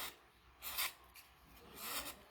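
A knife scrapes along palm leaf stalks while whittling them by hand, a few short rasping strokes with quiet pauses between, close and alone.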